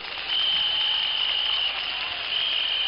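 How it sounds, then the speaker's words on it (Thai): Crowd applause at a Thai political rally for a man's 44th birthday: a steady, dense wash of clapping that swells after a brief start and holds evenly, with a thin sustained whistle-like tone running through it. "ปรบมือดังๆให้กำลังใจคุณลูกหมีนะครับ"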